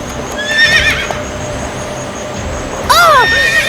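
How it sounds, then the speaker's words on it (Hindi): A frightened horse in high wind whinnies loudly twice, first briefly and then in a long, strong neigh, with faint hoof stamping underneath. "एबिगेल का घोड़ा इतनी जोर से पैर पटक रहा था"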